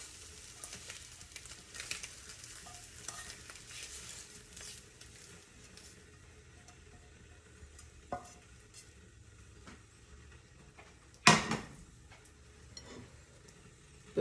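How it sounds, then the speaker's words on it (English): Scrambled eggs with spinach and onions fry quietly in a pan at home, a soft continuous sizzle with occasional stirring scrapes and a sharp utensil clatter near the end. "Scrambled eggs, spinach and onions."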